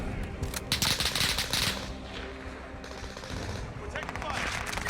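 Rapid automatic gunfire in the video game Warzone, with bursts of shots crackling through the clip under a voice talking over it.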